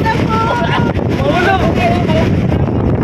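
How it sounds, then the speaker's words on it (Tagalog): Strong storm wind on the coast of Camarines Norte, Philippines, buffets the microphone in a steady roar while voices murmur underneath. "Lakas ng hangin."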